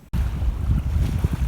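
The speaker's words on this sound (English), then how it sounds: "Very windy though, coming right off the lake, so it is chilly." Strong, chilly wind blows in off a lake at a park on a spring evening, buffeting the microphone in a low, gusty rumble that fluctuates continuously with no speech.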